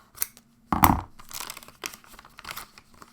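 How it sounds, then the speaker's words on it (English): Scissors snip and tear open a plastic wrapper from an Airfix Savoia Marchetti SM79 model kit, giving close, loud crinkling and rustling bursts with a sharp cut and scattered softer crackles. "Scissors."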